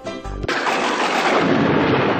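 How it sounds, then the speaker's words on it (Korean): Thunder from a lightning strike in an animated show: a sudden sharp crack breaks in after a brief low tone, then a loud, broad rumble roars on and slowly thins out, with no talking. "번개 무서워?"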